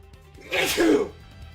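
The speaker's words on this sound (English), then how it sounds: "I had to sneeze." A single sneeze with a sharp intake and a loud burst, close up, standing out against a quiet background.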